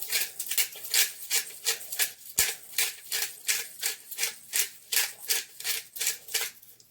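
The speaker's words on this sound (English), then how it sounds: "And I'll grate some pepper, fresh grated pepper" Fresh pepper being ground by hand in a pepper grinder while making meatballs, a close, steady run of about fourteen rhythmic rasping grinds, each twist a short scratchy burst, with no talking.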